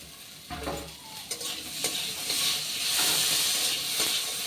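Chopped onion and tomato sizzle and hiss in a hot pan while a spoon scrapes and stirs them, with close clinks and scrapes over the steady frying sound.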